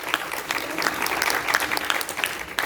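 A church congregation at an anniversary thanksgiving service in Hawaii breaks into steady, dense applause that holds loud and even throughout, with no talk over it.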